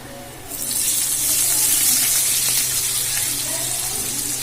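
Sliced onions dropped into hot oil with fried whole cumin seeds for chana dal pulao, a loud, close, steady sizzle that swells up after a quiet start and holds on alone.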